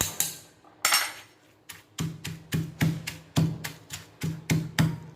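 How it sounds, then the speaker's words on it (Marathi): A spoon pounds green chili thecha, Kolhapuri style, with a steady series of about a dozen sharp, close knocks, regular and unaccompanied. "चमच्याने थोडंसं खालीवर खालीवर करून हा ठेसा एकदम बारीक असा वाटून घ्यायचा"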